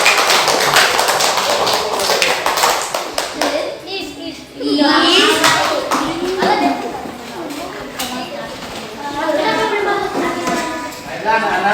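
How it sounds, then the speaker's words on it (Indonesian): Children in a classroom clap together for a group, a quick burst of claps with taps and hand noise up front that gives way to children's voices talking close by. "Kasih tepuk tangan untuk kelompok."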